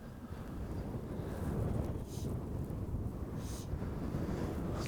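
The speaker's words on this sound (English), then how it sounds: "I was not expecting it to be this windy today." Strong wind among granite spires at a mountain fishing spot, a constant low rushing roar buffeting the microphone, rising and falling in gusts.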